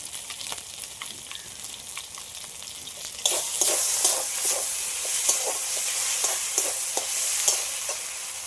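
Spices, yogurt and ground paste mixed together in a pan, quiet at first and then a bright steady sizzle with regular stirring scrapes, close, no talk.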